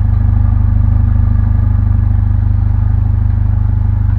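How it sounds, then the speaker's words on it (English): A loud, steady Mercedes-Benz CLA45 AMG engine rumble with a rapid throbbing exhaust beat, close by and unbroken throughout. "listen to that exhaust"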